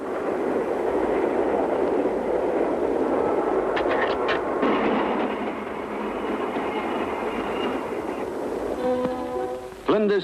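Railway yard train noise from 1953 Australian rail operations, a continuous loud rumble of rolling stock with brief metallic squeals and clanks, ending in a sharp bang.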